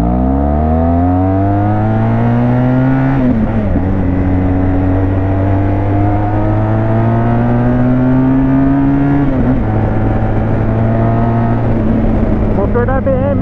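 A BMW R1200 motorcycle engine revs loud and close, its pitch climbing in long sweeps that break sharply twice before rising again, with a continuous exhaust drone throughout.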